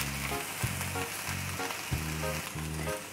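Broccoli frying with freshly ground masala in a pan, giving a steady close sizzle with soft crackles that pulse in rhythm throughout, no voices.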